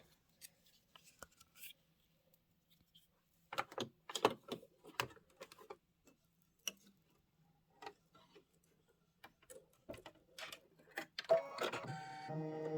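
An embroidery machine stitching a pillow design makes scattered rapid ticking and clattering bursts between quiet gaps, then runs into a denser, steadier mechanical rattle toward the end, close and fairly quiet.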